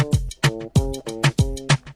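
A short excerpt of an old reggae riddim: a punchy, repeating drum-and-chord groove with steady bouncing hits roughly every quarter second, played alone at moderate level.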